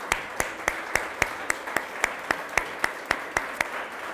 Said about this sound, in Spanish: Vamos a darles un fuerte aplauso a estos.